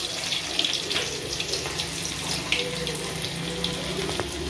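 Mustard seeds and urad dal crackling in hot oil for Tamil puli kuzhambu, a steady, close hiss with scattered light pops and no voices.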